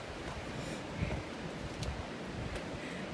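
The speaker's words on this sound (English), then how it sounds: "It's windy up here" Wind gusting across an open hilltop on a forest hike in Greenwood Furnace State Park, a steady broad roar buffeting the microphone with a few stronger gusts, no talk.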